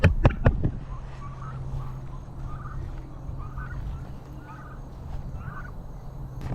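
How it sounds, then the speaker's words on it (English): Pasture-raised turkeys gobble repeatedly on a small North Carolina farm at Thanksgiving time, a flock's bubbling calls at moderate distance over a low steady hum, after a few sharp knocks at the start. "those pasture raised turkeys are always a hit here"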